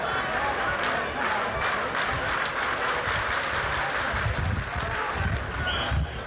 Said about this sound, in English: And the Leeds crowd at the back of the post, not happy with that.